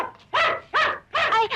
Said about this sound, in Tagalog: Ay, yung aso!